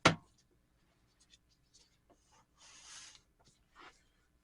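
A knife works through a bar of cold process soap with short scraping, rasping strokes, a sharp tap at the start followed by scattered quiet drags and a longer gritty cut, close and faint.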